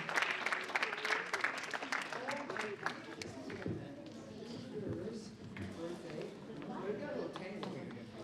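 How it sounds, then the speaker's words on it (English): An audience at a wellness health seminar applauds together, a dense patter of clapping blended with crowd noise and voices talking over it, moderately close. "let's all clap"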